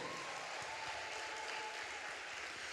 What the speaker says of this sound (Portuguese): Aplauda ao Senhor Jesus direito